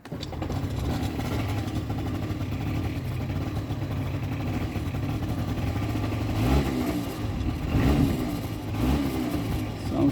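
A Kymco ZX scooter engine, freshly running after a carburetor cleaning, idles with a steady buzzing drone that swells in a few brief revs toward the end, close and continuous.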